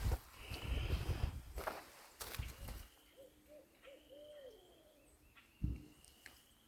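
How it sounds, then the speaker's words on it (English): An owl hoots faintly in the background in a short series of soft, low calls. Louder footsteps and rustling sit in the foreground at the start, and the hooting carries on through the quieter stretch that follows. "There's an owl in the background."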